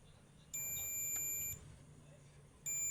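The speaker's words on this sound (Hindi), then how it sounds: "बीप साउंड आ रहा है।" A multimeter continuity tester beeps while checking the secondary winding of a transformer from a Tower home theater under repair, two sustained high-pitched tones about a second long each, close and clear over a quiet bench.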